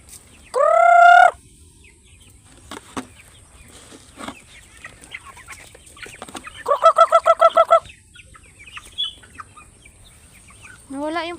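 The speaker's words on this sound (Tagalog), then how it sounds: "Yan po yung aking mga Brahma chicken." Brahma chickens, some of mixed breed, in a backyard flock give loud, drawn-out squawking calls, with a burst of rapid pulsed clucks in the middle and soft scratching and movement between calls.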